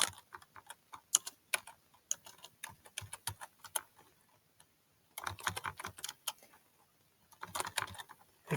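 Close, quick keystrokes clatter in bursts on a keyboard, pausing briefly twice before the tapping picks up again; no voices.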